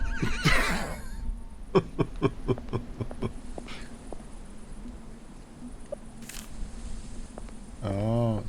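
In the video game Burnhouse Lane, a horse gives a loud, quavering whinny near the end, after a series of sharp clicks and brief soft sounds.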